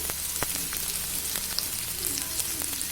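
Vegetables for a poori masala sauté in a pan, giving a steady, close crackling sizzle with scattered pops and light stirring, and no talking.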